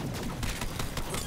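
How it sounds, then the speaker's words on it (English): Rapid bursts of grenade explosions and gunfire from Borderlands 3 during a boss fight, a dense, loud barrage of sharp cracks packed into about a second. "Are you just tossing endless grenades in there?"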